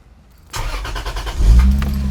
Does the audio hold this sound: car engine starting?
yes